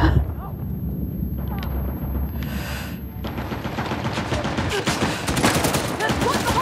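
Gunfire in the action game Uncharted The Lost Legacy, a dense, loud barrage of rapid shots and impacts with continuous crackling, mixed with other game noise.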